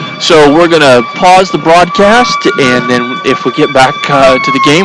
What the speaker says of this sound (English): So you hear the sirens in the background.